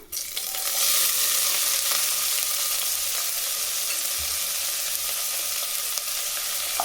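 Two large onions, added with curry leaves, sauté in a pan for a soya-chunk and chickpea vegetable biryani, producing a loud, even, close sizzle with occasional small crackles and a stirring knock.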